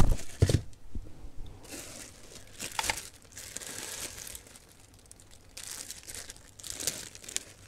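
A plastic bag tears and crinkles, along with a very long, strong strip of cellophane tape, while a retro arcade game console is unboxed. The crumpling and rustling comes in short bursts, close and fairly quiet, with brief gaps between them.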